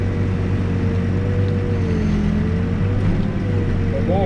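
A backhoe engine works steadily under load, pulling through crusty dirt while cutting a grade, with a constant loud low drone and no pauses.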